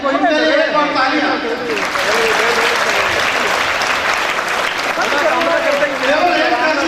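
Sustained applause from a sizeable crowd at a student awards ceremony in Hanumangarh, steady and loud throughout, with voices faintly audible beneath the clapping.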